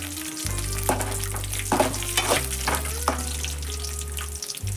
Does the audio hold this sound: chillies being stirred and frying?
yes